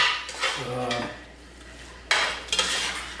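A spoon stirs and lifts bolognese meat sauce in a pot, giving a few scraping, clinking strokes of utensil against metal in two bursts with a quieter pause between, close and fairly loud.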